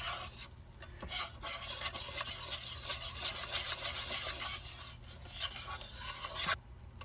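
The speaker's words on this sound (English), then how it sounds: "I'm continuing to stir this roux." A roux stirred in a pan on a low simmer for garlic and onion soup, a steady raspy scraping that repeats in close, continuous strokes for several seconds with no talk.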